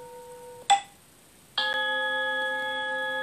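A single bright meditation timer bell strike rings and fades, followed by a sustained, shimmering chime tone that holds steady for a couple of seconds in a quiet room.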